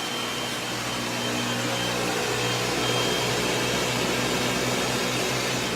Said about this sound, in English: Everybody's going to blend.